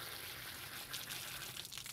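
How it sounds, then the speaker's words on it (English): A basic garden hose sprays fresh water over a foil drive motor rotor, a steady close hiss and splash of rinsing with no voices. "So just with a basic hose, fresh water rinse."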